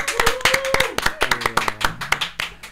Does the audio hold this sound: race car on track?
no